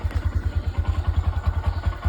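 A 2025 Honda Grom ABS motorcycle with 72 miles on it idles just after a cold start, its small engine putting out a steady, close, low-pitched thumping pulse with a light mechanical clatter, no talking over it.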